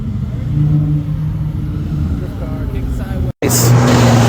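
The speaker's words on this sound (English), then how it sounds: "Got a drift car." Honda Prelude drift car at a car show, its engine droning and revving loudly and close, cut by a brief dropout near the end before resuming, with people talking over it.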